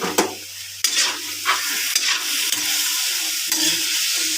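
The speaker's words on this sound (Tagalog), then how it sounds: "Ating muna isasangkot siya." Food sautés in a pan with a steady sizzle, broken by several scraping stirs and clanks of a utensil against the pan, close and moderately loud.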